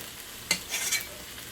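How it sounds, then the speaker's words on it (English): Rice cooked with beans is stirred in a pot, with a brief scrape and soft clatter over a faint background sizzle. "So now we're just going to give it a quick little stir."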